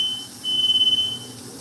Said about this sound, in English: the oil is making the alarms go off